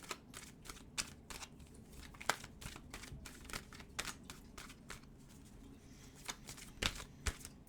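Tarot cards being shuffled close up, a quiet series of rapid papery riffles and soft slaps repeating in uneven bursts.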